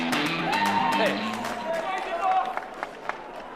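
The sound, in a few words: large crowd cheering at CPAC event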